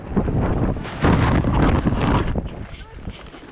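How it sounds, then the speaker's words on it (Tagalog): Strong wind roars and buffets the microphone throughout, loud and gusty, with a voice speaking Tagalog over it. "Ang lakas ng hangin."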